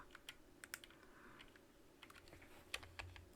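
Quiet, scattered keystrokes tap on a computer keyboard in short irregular bursts over a low background hum.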